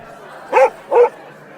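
Basil the dog barks twice in quick succession, close and loud, two short sharp woofs a few tenths of a second apart against a quiet room.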